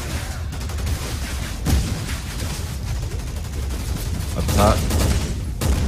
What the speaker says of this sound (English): this sniper is so retro, man. You gotta reload after every shot